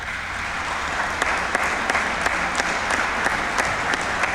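An audience at the president's annual report applauds in a steady, dense stream of clapping, with a few sharper individual claps standing out near the front.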